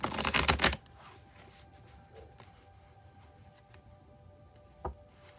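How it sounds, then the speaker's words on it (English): Tarot cards riffle-shuffled in a quick, dense burst of crisp flutters lasting under a second, close and clear, followed by near silence and a single soft tap of the deck. "Now, I'll shuffle a couple more times, and then I'll cut the cards, and we'll deal right off the top."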